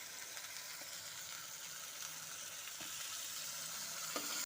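Potatoes fry down with spices in a pan for a Bengali posto dum, a faint, even sizzle and crackle running throughout with a few soft knocks.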